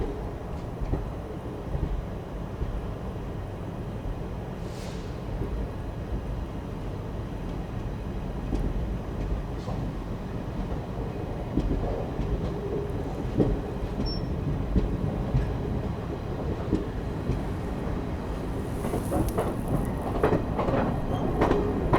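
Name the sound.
14041 Mussoorie Express train running, Delhi to Dehradun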